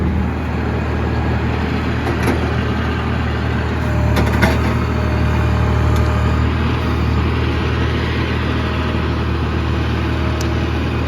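A tractor engine idles steadily nearby, a continuous low rumble with a few faint clicks and knocks over it.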